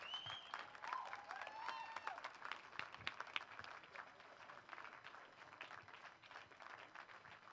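Faint, distant applause and cheering from a crowd at a powerlifting bench press and deadlift meet as lifters leave the platform, with sustained clapping and a few whistles early on.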